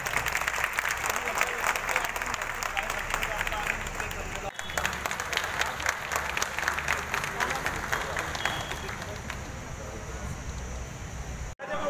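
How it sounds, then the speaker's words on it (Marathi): Audience at a school ceremony breaking into sustained, dense applause that carries on steadily for the whole stretch, with voices mixed into the crowd. "सरांनी टाळ्या वाजून घ्या."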